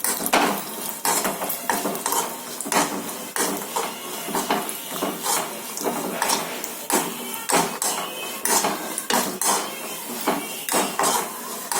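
Cashews (kaju) roasting in a pan for ghee rice, with a spoon scraping and clattering against the metal in steady repeated strokes, close and fairly loud, over a faint background sizzle.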